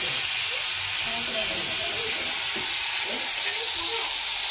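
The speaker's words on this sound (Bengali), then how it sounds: "তো উচ্ছেগুলোকে কিন্তু ভালো করে ভেজে নেব" Salted, turmeric-coated bitter gourd slices frying in hot oil make a loud, steady hissing sizzle throughout, with faint stirring sounds beneath.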